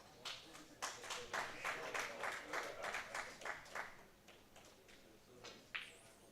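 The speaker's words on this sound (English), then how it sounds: "You might have heard the applause in the background." Scattered applause from a snooker hall audience after a century break at the 2023 Pan American Snooker Championship, a run of soft, fairly distant claps lasting several seconds and fading out, with a few sharper taps near the end.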